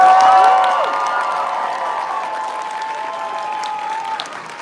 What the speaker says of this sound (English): can we give one more round of applause for these guys?